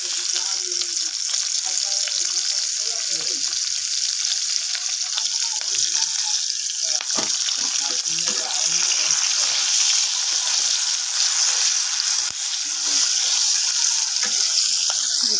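Onions frying in hot oil, a continuous bright hiss and crackle close up, with scattered stirring scrapes and knocks throughout.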